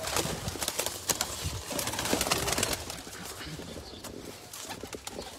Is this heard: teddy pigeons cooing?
yes